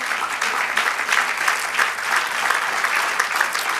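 Sustained applause from a church congregation fills the room, a steady dense clatter of many hands clapping for a few seconds at even loudness with no talk over it.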